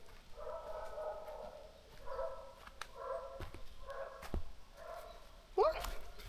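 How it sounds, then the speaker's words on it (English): Several dogs bark aggressively at a distance on an outdoor hike, in repeated short bursts with pauses between them, joined by a brief closer yelp near the end. "I see dogs barking"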